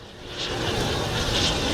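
Italian Coast Guard ATR-42 turboprop aircraft flying at an airshow in Malta, a short, fairly loud steady engine drone that swells slightly as it passes.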